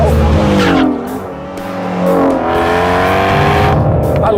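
A Ford Mustang Shelby GT350 brakes hard on a track, its tires squealing in loud wavering tones over the engine note, which drops and then rises again as it powers out of the corner, close and loud.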